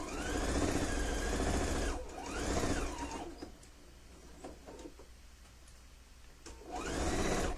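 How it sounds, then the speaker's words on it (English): Sewing machine stitching quilt patches around the corners, heard as loud bursts of whirring motor and rapid needle chatter separated by a quieter pause. "Got this all ready to sew. Sew around the corners,"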